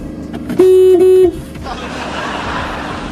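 A single loud car horn honk lasts under a second, with street noise and a faint voice around it.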